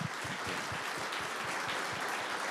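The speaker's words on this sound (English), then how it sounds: "can I also get a big round of applause for all of the maintainers?" Audience at a maintainer Q&A session clapping in a steady, dense wash of applause that holds at an even level throughout, with no talking over it.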